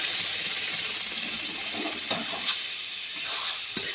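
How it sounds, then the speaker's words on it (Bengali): Boiled dal, cooked with salt and turmeric, pours into a hot tarka and sets off a steady, close sizzle and hiss, with a few soft splashes and clinks near the end. "এবারের মধ্যে আমি সেদ্ধ করা তরকার ডালটা ঢেলে দেবো"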